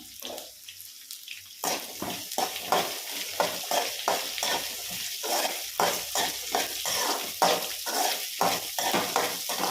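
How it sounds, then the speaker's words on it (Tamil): Green chillies and onions sautéing in a pan, a steady sizzle broken by repeated scraping stirs that come in an irregular rhythm, close and fairly loud, with no one talking. "இப்போ வெங்காயத்தள்ளி போட்டுக்கிறோம்."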